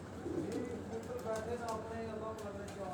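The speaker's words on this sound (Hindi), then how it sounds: "काले मुँह वाला ये कबूतर जो 3:31 पर ये बैठा है" A black-faced pigeon coos softly on a rooftop in a few faint, low calls, barely rising above a quiet background with people talking.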